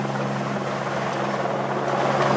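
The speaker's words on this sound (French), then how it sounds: "On débarde à l'hélicoptère quand on ne peut pas accéder avec d'autres machines." Logging helicopter working in the mountains, a loud, steady rotor drone with a constant thrum throughout.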